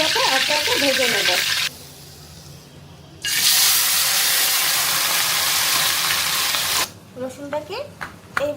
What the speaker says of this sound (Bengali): তেলটা খুব ভালোভাবে গরম হয়ে গেলে আমি এই মাছগুলোকে একটা একটা ভেজে নেব।